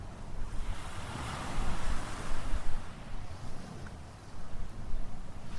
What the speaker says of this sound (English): that soothing sound of waves breaking on a beach